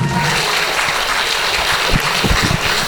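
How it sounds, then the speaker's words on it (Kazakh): Audience applause at a Kazakh stand-up comedy show, a dense steady wash of clapping filling the room, loud and continuous throughout with no talk over it. "Қатырақ шапалақ, мен бастаймын."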